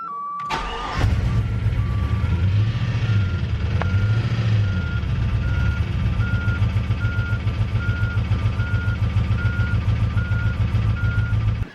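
An LS-swapped Chevrolet Suburban engine cranks over with a rapid, steady churning rhythm for about ten seconds after a brief start, loud and close, with a repeating beep chiming in the background.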